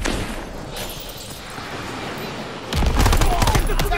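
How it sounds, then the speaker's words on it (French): Covering gunfire in Call of Duty WWII, a loud machine-gun burst breaking in near the end after a stretch of battle noise with French-speaking soldiers shouting. "ils me font un tir de couverture sur la gauche"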